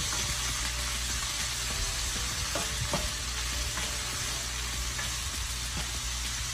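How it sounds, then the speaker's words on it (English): Vegetables for pepper steak sauté in a pot with a steady, close sizzle and a few soft scraping stirs, and no one talking. "we're just gonna saute all these nice veggies together"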